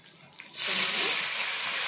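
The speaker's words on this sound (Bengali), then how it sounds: "এখন জলটা দিয়ে দেব।" Water pours into a hot pan of mustard-based topse fish curry, giving a sudden loud, sustained hiss and sizzle after a brief quieter moment.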